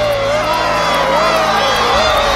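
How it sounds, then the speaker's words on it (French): A stadium crowd cheers and applauds for a team entering a Gobbowl match in the French dub of the animated series Wakfu, a loud, continuous roar with music layered over it throughout. "sous vos applaudissements!"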